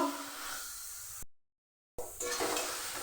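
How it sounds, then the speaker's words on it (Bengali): A cumin and coriander spice paste sizzles and hisses in a pan, a moderate steady frying sound that cuts out briefly to silence midway and then resumes slightly brighter. "ভালোভাবে আমি মশলাটাকে কষিয়ে নেব।"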